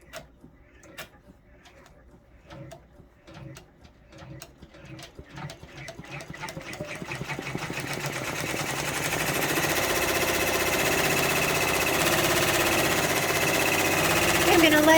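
An OESD embroidery machine stitches a freestanding lace pumpkin. Separate mechanical ticks speed up into a continuous, even whirring buzz that grows louder and holds steady near the listener.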